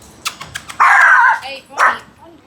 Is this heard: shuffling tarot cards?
no